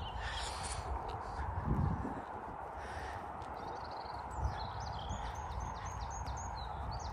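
Outdoors in the open air, crows caw loudly a few times over a steady wash of ambient noise, with smaller birds chirping faintly in the distance.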